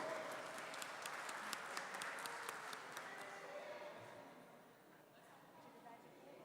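Applause from council members in a city council plenary chamber, a brief burst of scattered hand claps that quickly thins and fades into a low murmur of the room.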